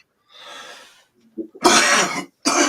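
A man coughs and clears his throat: a breathy rasp, a couple of short throaty grunts, then two loud, harsh coughs close to the microphone.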